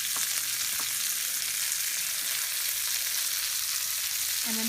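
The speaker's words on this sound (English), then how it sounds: "I will fry up some vegetables for her, just to bring out some of the flavor" Vegetables frying in oil in a well-used pot, a steady, close hissing sizzle that holds without a break, with faint clinks near the start and end.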